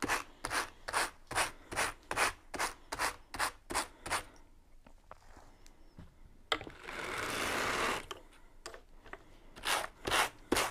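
Sheep's wool being carded with a small hand brush: a brisk run of about a dozen even, rhythmic rubbing strokes, a short pause, then a longer continuous rasping pass before the strokes resume, close and fairly quiet.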